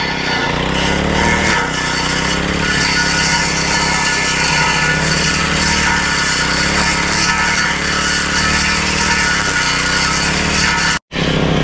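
A grass cutter trimming overgrown grass, a continuous loud, buzzing small engine whine held close for several seconds before cutting out abruptly near the end.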